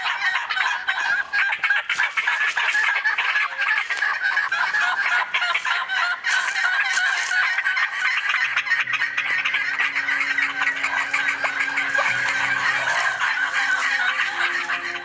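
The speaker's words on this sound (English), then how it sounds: "Can you hear the turkeys?" Turkeys gobbling and clucking outdoors in spring, repeated loud fowl calls in a continuous chorus at mid distance, with faint lower calls joining toward the end.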